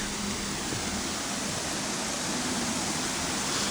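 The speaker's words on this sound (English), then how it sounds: "Sound of running water." Running water in a London royal park, a steady broadband rush like a fountain or weir, continuous and fairly close with no talk over it.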